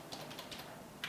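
Someone types a search on a computer keyboard in a short run of soft, quick key clicks, faint and close, with no talk.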